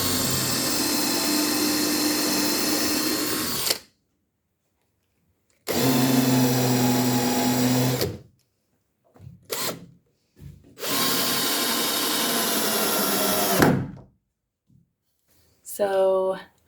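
Power drill driving screws into wooden trim inside a cabinet, heard in three long, steady whirring bursts separated by pauses, with short clicks and a brief higher whine near the end.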